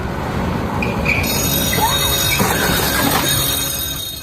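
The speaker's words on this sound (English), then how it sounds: "The car just got hit by the train." A train rumbles and rattles past at a level crossing, loud and close, its wheels squealing against the rails over a few seconds before the noise begins to fade.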